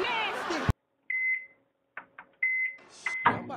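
A microwave oven heating a honey bun gives a few short, bright keypad beeps and a faint steady hum. A person talks briefly before and after the beeps.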